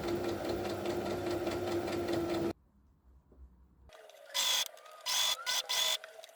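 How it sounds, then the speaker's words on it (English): A home sewing machine runs a single straight stitch along a double-folded hem of robe fabric, humming steadily, then falls quiet before a few shorter, louder stop-start bursts of stitching close by. "sewed that on my machine using a single"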